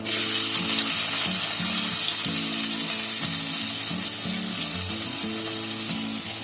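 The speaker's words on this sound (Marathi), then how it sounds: "आता मी टोपामध्ये तेल टाकलंय. त्याच्यामध्ये पहिला कांदा टाकते." Onion hits hot oil in a cooking pot and sizzles loudly and continuously up close, with a faint melodic tune playing underneath and no talking.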